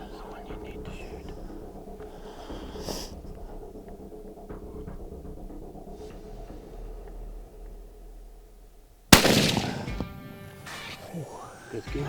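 A hunting rifle fires once during an African hunt, a sharp loud crack late in the clip that follows a long stretch of quiet whispered talk and outdoor background noise, with a brief rumbling echo afterward.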